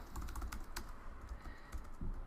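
Steady typing on a computer keyboard, heard as a run of light, fairly quick key clicks over a low background hum, with no talking.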